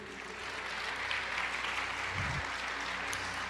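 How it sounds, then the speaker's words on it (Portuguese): Church congregation applauding, a steady wash of clapping from many hands, somewhat distant and moderately quiet throughout. "Você pode aplaudir o Senhor"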